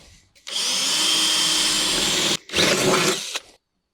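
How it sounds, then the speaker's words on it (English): A power drill whirs loudly and steadily for about two seconds, stops briefly, then drills again for another second before cutting off, boring 9mm holes into the body of a Land Rover LR4 for a snorkel installation. "And then we will drill our 9mm holes"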